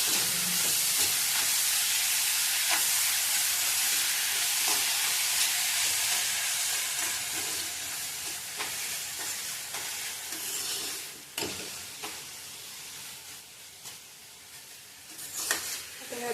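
Grated ridge gourd with turmeric sizzles in a hot pan while being stirred, a steady close frying hiss with soft scraping bursts throughout.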